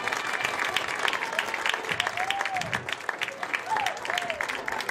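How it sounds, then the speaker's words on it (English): An audience claps for a 1986 Husky football team at a recognition ceremony, a sustained round of fairly close applause with some voices mixed in over its few seconds. "Let's give them a round of applause."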